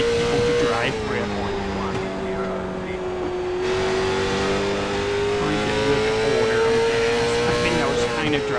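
Late model stock car from the CARS Tour in iRacing, its V8 engine droning steadily at high revs with slight pitch rises and dips through shifts, loud and continuous while someone talks over it.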